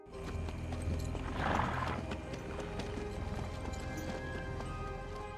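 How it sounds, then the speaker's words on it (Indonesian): A horse being ridden at an easy pace, with steady clip-clopping hooves under a dense, loud film soundtrack of music and rumble, and a brief neigh-like swell partway through. "Namun dengan santai Korpi terus menunggang kudanya"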